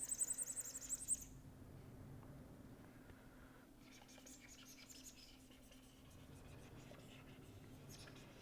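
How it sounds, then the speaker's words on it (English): A pen or marker scratches across a board or paper during an engineering lecture, soft irregular strokes running for several seconds after a brief faint whisper-like hiss at the start. "So, I will write it little clearly."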